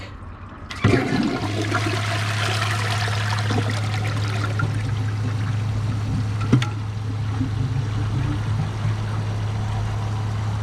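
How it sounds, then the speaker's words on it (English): A 2008 American Standard Champion 4 toilet flushes with its handle held down, a loud close rush of water that swirls and drains steadily for about ten seconds, with a low steady hum underneath. "I'm gonna hold down the handle because doing a press and release flush is pointless"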